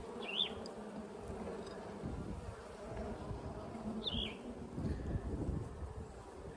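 Honey bees buzz continuously at an opened hive during a colony and queen check, a steady close drone with a couple of brief high bird calls above it.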